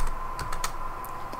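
Keys on a computer keyboard click in a quick, faint run of separate taps over a steady background hum.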